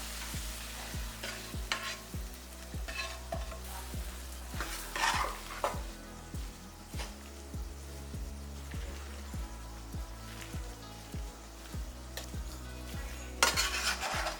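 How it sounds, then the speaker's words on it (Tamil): A spoon stirs raw green mango pickle with spice powder and oil in a bowl, making a quiet, regular rhythm of wet scrapes and soft knocks with an occasional louder clink. "இதை நல்லா ஒரு வாட்டி இப்படி கலந்து விடுங்க"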